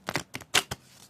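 Tarot cards shuffled by hand, four short papery bursts of flapping and clicking in a quick uneven rhythm, close and fairly quiet.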